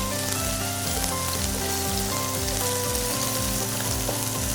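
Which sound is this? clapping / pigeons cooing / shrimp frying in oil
shrimp frying in oil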